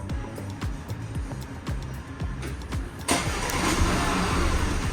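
A Porsche Macan started remotely by smart key: a steady close engine idle with rhythmic ticking, then a louder, fuller surge of engine noise about three seconds in as it settles into running.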